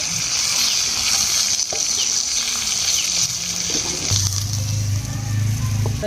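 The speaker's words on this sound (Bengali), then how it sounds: "মাছগুলো ভেজে নেব।" Fish sizzles steadily as it fries in hot oil in a pan, a loud continuous crackle throughout, with a deeper bubbling hum rising near the end.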